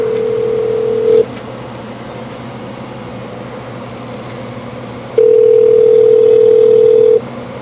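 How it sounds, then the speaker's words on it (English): A steady electronic dialing tone from a Skype call relayed over ham radio, sounding in two sustained stretches with a gap between them, loud and clear over a constant background hum. "I think it's dialing now."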